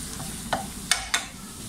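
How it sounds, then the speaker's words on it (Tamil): Wheat flour mixture stirred in a pan for a lasagna sauce, three soft scraping strokes spaced out over a quiet low hum, with no talking. "கோதுமை கட்டி ஒன்றும் இல்லாமல் நல்லா மிக்ஸ் பண்ணிக்கோங்க."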